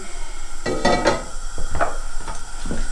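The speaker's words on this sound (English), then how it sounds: "So first off, throw the pan on." A frying pan set down on a home stove clatters in a few distinct metallic knocks and scrapes, close and fairly loud, with no talking.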